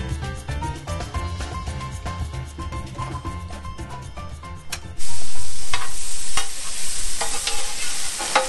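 Food sizzles loudly on a Blackstone griddle outdoors, a steady close frying hiss that swells sharply partway through, as if more food hits the hot surface, with background music early on.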